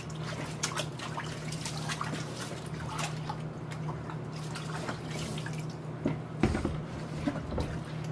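Water dripping and trickling while material is rinsed out during a metal detecting outing, a steady run of small drips and splashes over a low constant hum, close by with no talking.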